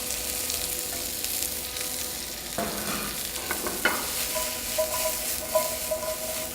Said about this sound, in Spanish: Y continuamos salteando.